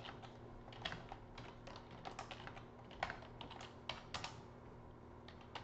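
Quiet, close keyboard typing as a command is entered on a Raspberry Pi, irregular key clicks in short bursts against a faint steady hum.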